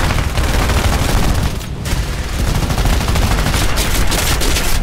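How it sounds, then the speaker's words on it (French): Dense, sustained machine gun fire from the gunners of B-24 Liberator bombers of the 464th Bomb Group during a 1944 air battle, loud and continuous with heavy rattling bursts throughout. "tous les mitrailleurs du box du 464e Bomber Group vont répliquer à leur tour dans un déluge de feu"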